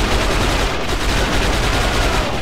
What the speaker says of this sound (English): Let's just pull out the lead machine gun and just get it.